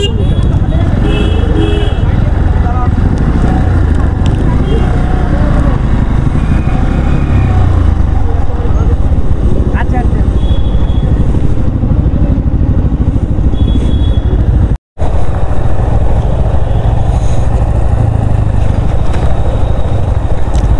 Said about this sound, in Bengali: এবার আমরা এখানে বাইক পার্কিং করব।